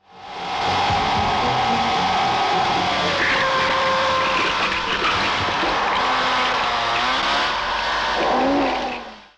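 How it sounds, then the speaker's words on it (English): A motorboat's propeller engine in a killer-crocodile film scene, whining loudly and continuously, with its pitch rising and bending toward the end. "Jaws never had a motorboat propeller versus shark scene."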